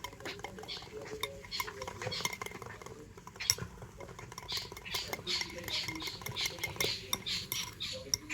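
Batter being stirred in a bowl after Eno fruit salt is added, a busy run of quick spoon clicks, taps and wet pattering scrapes against the dish, close and fairly quiet, with no talking.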